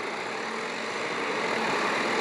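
A tractor engine running in a steady, unbroken rumble and hiss, moderately loud and close, holding even for a couple of seconds with no voices.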